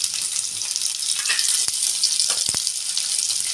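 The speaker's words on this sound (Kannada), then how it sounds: "ಇವಾಗ ಈ ಎಣ್ಣೆಗೆ ನಾನು 2 ಈರುಳ್ಳಿನ ಉದ್ದುದ್ದಾಗಿ ಹೆಚ್ಕೊಂಡಿದ್ದೆ, ಅದನ್ನ ಸೇರ್ಸೋಣ" Long-sliced onions hitting hot oil in a pan while cooking brinjal masala, giving a loud steady sizzle with a few soft stirring knocks.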